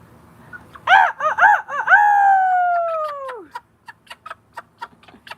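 A voice imitates a rooster, giving a few short clucking calls and then a long drawn-out cock-a-doodle-doo crow, loud and close, followed by scattered faint clicks.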